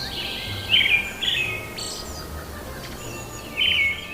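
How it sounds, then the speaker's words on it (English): Bird song outside a treehouse: bright, clear chirping phrases come in short bursts, with a pause between them, over a quiet outdoor background. "It's a bird."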